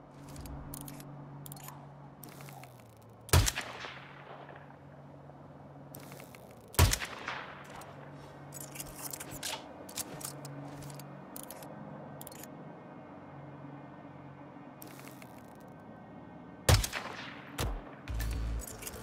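Gunfire in the Siberia mission of Hitman 3, several sharp isolated shots spaced seconds apart, loud over a steady low game ambience and music bed.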